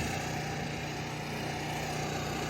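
A lawn mower engine drones steadily at a moderate distance, a continuous motorized hum with no talking.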